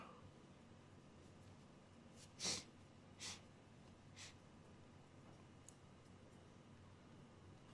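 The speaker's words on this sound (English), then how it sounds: "there's my sniffles" A couple of short, sharp nasal sniffs close by, followed by a fainter third, over a quiet steady background hiss.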